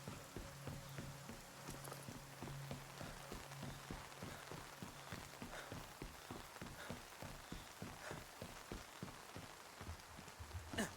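Rain falls in the video game Nightingale as a faint, steady patter of drops on a surface, with irregular soft ticks and taps running throughout under a low hum.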